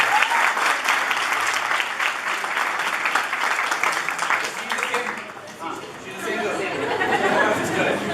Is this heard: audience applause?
yes